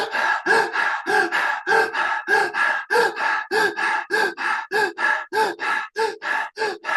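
Rapid breathwork breaths come in a fast, steady rhythm of about twenty sharp, close inhales and exhales, each a forceful gasp followed by a quick release, with no talking.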